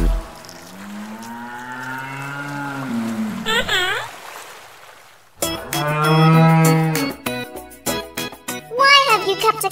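A cartoon cow moos loudly several times in a children's farm song, its long drawn-out calls alternating with sung and spoken voices over music.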